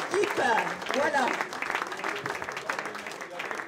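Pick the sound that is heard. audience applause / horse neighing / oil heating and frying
audience applause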